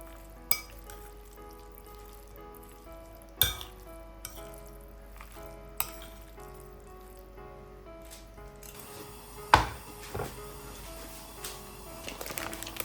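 Wet, squishy mixing of shawarma filling with yogurt in a bowl, quiet and close, broken by a few sharp utensil knocks and a faint background hum.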